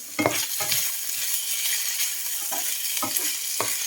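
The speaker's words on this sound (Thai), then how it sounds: "ผัดมันฝรั่ง ใส่ไอ้ไส้กรอกที่เหลือที่แฟนยายทำเมื่อกี้นี้" Potatoes and leftover sausage stir-fried in a pan, a steady close sizzle with repeated scraping strokes of a utensil against the pan at irregular intervals, no talking.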